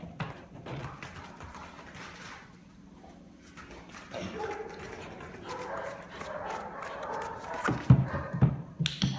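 A puppy yelps and whimpers during play, with scuffling and some louder bursts toward the end; people talk quietly in the background.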